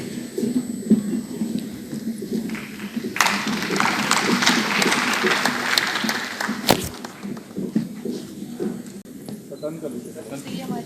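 Audience at a cooperative week ceremony bursting into applause mid-clip, a dense spell of clapping lasting a few seconds before fading, with speech and background noise around it.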